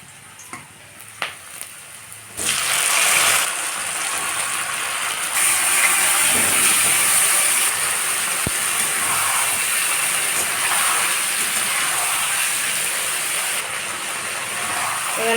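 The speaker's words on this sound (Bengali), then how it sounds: "এবার আমি মাংসটাকে দিয়ে দেবো সিদ্ধ করা মাংসটাকে" Boiled meat dropped into a pan of fried onions, a sudden loud sizzle that settles into steady hissing frying, close up, following a few faint clicks.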